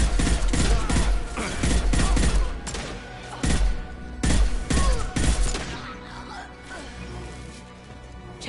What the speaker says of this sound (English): Big old arc projector gun.